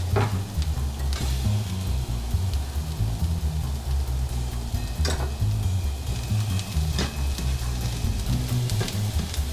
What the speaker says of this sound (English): Once our onions have turned golden, we add our apples and we cook them until soft.